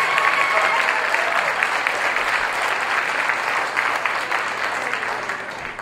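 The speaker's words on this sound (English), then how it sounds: "Let's clap for him anyway." Steady applause from a sizable crowd at an employee awards dinner, continuous clapping at an even level that fades slightly toward the end.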